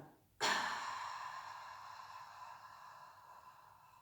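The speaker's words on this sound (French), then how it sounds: "Et arrivé ici, j'expire." A person exhales in a long, strong breath during a qi gong breathing exercise, a sudden airy rush that fades slowly over several seconds, close and alone.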